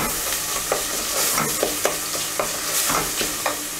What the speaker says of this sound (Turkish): Kavrulan etimin ve soğanın üzerine hemen taze fasulyemi ekliyorum